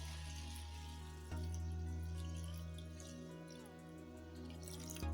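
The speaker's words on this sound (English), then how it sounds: "At this point, we want to add some water to it." Water from a tap runs into a saucepan of washed quinoa, a quiet, steady pour with a faint trickling texture, near and alone.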